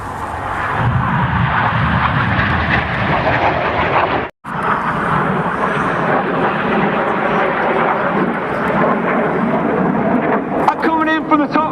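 Red Arrows jets roar overhead in a sustained, loud rush during the anniversary break at the Cosford airshow, the noise cutting out briefly before surging back.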